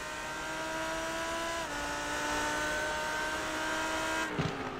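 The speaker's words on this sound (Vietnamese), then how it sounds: "Tiếng động cơ V10 của chiếc Lamborghini" Lamborghini Huracan GT3 Evo's V10 engine roars in a racing video game during an esports event: a loud, sustained howl with steady pitch, a brief dip partway through, then a sharp shift near the end.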